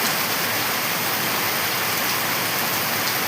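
Heavy rain pours down steadily in a dense, unbroken hiss with no pauses or voices.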